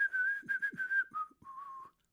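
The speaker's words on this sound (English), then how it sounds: "Irish music doesn't sound right without the penny whistle." Penny whistle playing a short Irish melody, clear sustained tones with brief breaks between phrases, close and alone.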